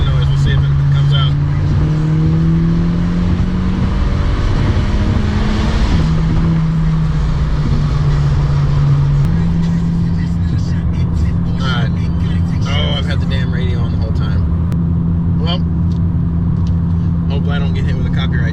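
2017 Honda Civic EX-T with a catless downpipe, muffler delete and cold air intake, engine droning and revving in steady sweeps, loud and close, with a voice talking over it near the start and wind noise outside.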